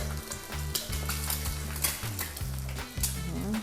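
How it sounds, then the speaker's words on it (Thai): An egg fries in plenty of hot oil with a bright crackling sizzle and light spoon taps as oil is ladled over it, close up over a steady low hum. "ตักน้ำมันราดเข้าไปข้างในมันจะได้สุกเนาะ"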